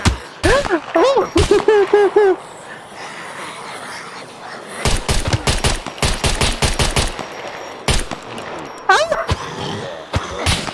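Gunfire in the video game SCUM comes in sharp bursts of rapid automatic shots, some clustered tightly together, with people talking and exclaiming between the volleys.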